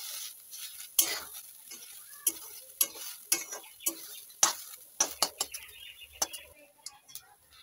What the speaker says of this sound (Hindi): इसको और अच्छे से फ्राई करना पड़ेगा।